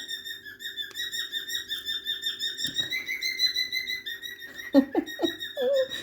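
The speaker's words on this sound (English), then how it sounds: "I really hope you can hear over my bird" A small bird chirps and whistles steadily up close, bright repeated tweets with a few sharper squeaks near the end, no talking.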